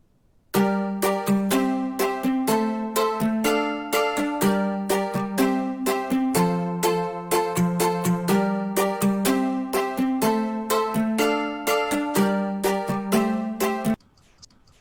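Synth instrument patch from Omnisphere built on a plastic Stratocaster sound, playing a bright, evenly plucked repeating melodic pattern for about thirteen seconds before stopping abruptly.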